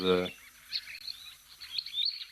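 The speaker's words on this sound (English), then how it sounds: "this woodland kingfisher. It's such a unique little sound." High chirping kingfisher calls come in short bursts against a quiet background, with a brief low voiced sound at the very start.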